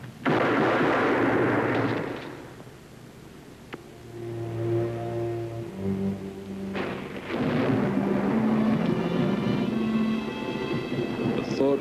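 A volley of gunfire from soldiers, heavy booming blasts that start loud and then decay into rumbling echoes, with a second loud burst later on, along with a voice shouting a command.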